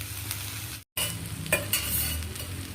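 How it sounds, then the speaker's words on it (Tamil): Pearl millet adai cooks on a pan over a low flame, giving a soft, steady sizzle with a few sharper crackles and scraping stirs, briefly cut by a moment of silence. "கொஞ்சம் சிம்மிலையே வச்சு பொறுமையாக வேக விடலாம்"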